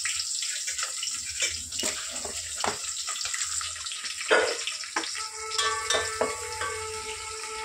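Onions and ground masala fry in a pan, giving a continuous crackling sizzle broken by sharp clinks and scrapes of stirring, close by and with no voices.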